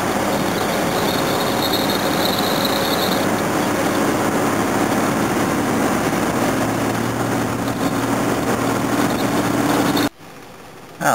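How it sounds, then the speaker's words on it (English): A Jaguar XJ6 engine running with the bonnet off, a steady loud mechanical hum and whine that holds for about ten seconds, then cuts out abruptly, with no talk. "The engine's running lovely."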